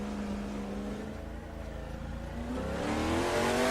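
A V8 race car engine in the video game Assetto Corsa, at Goodwood, drones steadily, then rises in pitch as it revs and accelerates, loud and close throughout with no voices.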